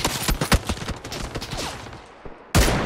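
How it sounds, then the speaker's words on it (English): Gunfire in the battle royale game PUBG, rapid bursts of distant and mid-range shots crackling over a few seconds, then a sudden louder blast at the end, with no voices. "I'll never understand shooting at those gliders, man."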